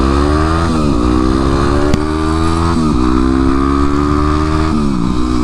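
A dual sport motorcycle rides along nearby, its engine droning steadily with several rising and dropping pitch sweeps as it shifts through gears, loud and continuous with no voices.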